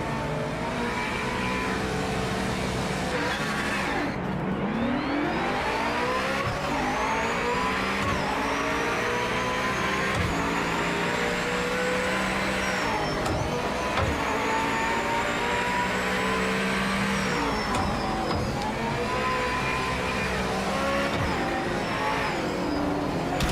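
Race car engine in the Project Motor Racing game at Sebring with a full grid, revving and shifting up and down through the gears in continuous loud sweeps, with other cars around, tyre squeal and no talking.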